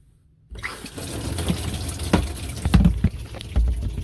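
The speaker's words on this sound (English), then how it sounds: "Water pump is on." A water pump fills a Giantex EP21684 portable mini washing machine, a loud close gush of running water that starts abruptly after half a second of quiet and runs on steadily with a few splashy bursts.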